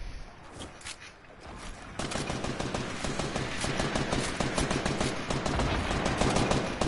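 Rapid automatic gunfire in a video game, a dense stream of sharp shots that gets louder and heavier after the first couple of seconds and keeps up steadily to the end.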